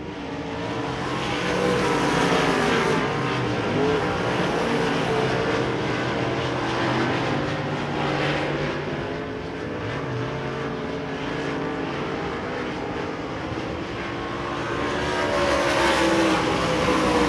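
Race cars roar continuously around the Devil's Bowl Speedway oval, a loud, sustained engine drone that swells and fades as the pack passes, with no talk over it.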